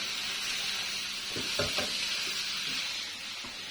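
Beef mince frying in a pan, with a continuous sizzle and a few close scraping stirs of a spoon near the middle.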